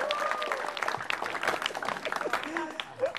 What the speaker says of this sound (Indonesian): Tepuk tangan buat Anjas.